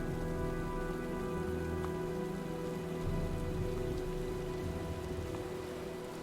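Steady rain pouring onto surfaces in the video game Heavy Rain, a dense continuous hiss with a low droning hum beneath, no voices.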